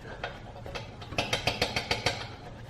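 Rapid metallic rattling from a BMW E90 335i N54 turbo wastegate actuator arm when lifting off the throttle, a quick even run of sharp taps over a low engine hum, growing more distinct midway.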